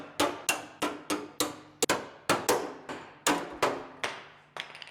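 Hammer strikes land in a quick, fairly regular series of about eleven sharp, ringing blows close by, each decaying briefly before the next.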